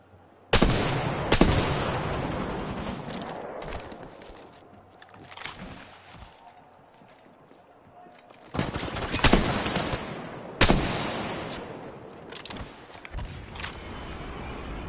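Video game gunfire, heard as loud bursts of rapid automatic shots broken up by quieter gaps, with one burst early on, more shooting around the middle, and two long heavy volleys near the end.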